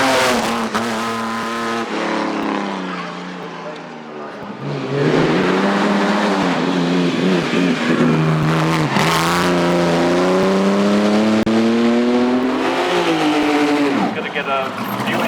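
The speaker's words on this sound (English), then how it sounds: "This is the ERA Riley, in the hands of Keith Knight" An ERA Riley racing car, driven for many years in sprints, circuit races and hillclimbs, revs hard up the course at the Shelsley Walsh hillclimb, its engine rising and falling through gear changes while a commentator talks over it.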